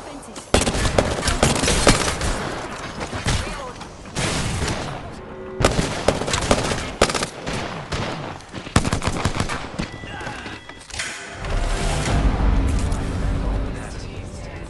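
Apex Legends arena gunfire, dense bursts of rapid automatic shots and single cracks keep going for about fifteen seconds, loud and close, with short pauses between bursts and some game voice lines underneath.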